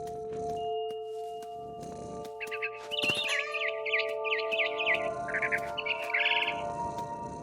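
Birds chirp in the video game What Remains of Edith Finch, with a run of bright, repeated tweets over a steady, sustained musical tone and soft ambient hiss. No one speaks.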